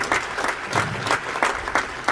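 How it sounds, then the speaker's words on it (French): Audience applause at a film festival's closing and awards ceremony, a steady dense clapping from a large crowd filling the room, with soft rhythmic swells and no talk over it. "un tonnerre d'applaudissements pour eux"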